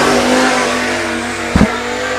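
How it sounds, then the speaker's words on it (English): Sprint race car engine revving steadily on the I-96 track in Michigan during a Great Lakes Sprint Series qualifier, a loud continuous high-pitched drone with a brief surge near the end. "Ohio driver Ricky Peterson in a sharp-looking 2 car"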